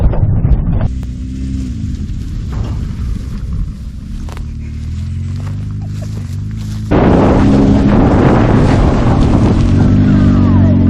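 A 2000 Nissan Sentra driving, its engine drone and road rumble steady and close, with wind buffeting the mic, growing louder and rougher toward the end as the car speeds up.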